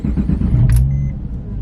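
A Porsche 996 fitted with a Cargraphic valved exhaust starts up, a brief starter burst giving way to a deep, steady engine rumble close by.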